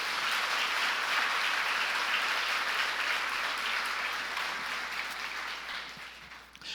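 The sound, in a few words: congregation applause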